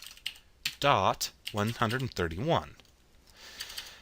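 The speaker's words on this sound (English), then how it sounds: "So the first thing I need to do is type in the IP address of my VM." Someone types an IP address on a computer keyboard while setting up a Windows Server virtual machine, the key clicks running beneath a speaking voice and continuing faintly on their own at the end.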